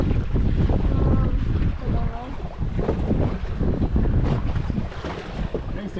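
Strong wind blows across a small fishing boat offshore, roaring and gusting into the microphone over the sloshing water and hull noise.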